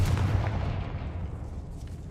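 A Confringo fire spell explodes in the Hogwarts Legacy video game, heard as a loud, dull booming burst with a low rumbling tail that fades over about two seconds.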